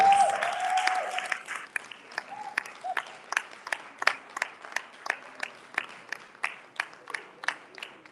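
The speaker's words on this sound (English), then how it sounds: "well, Lawal, it's a round of applause." A conference audience applauds in uneven bursts of clapping, fading in and out after a brief spoken introduction at the start.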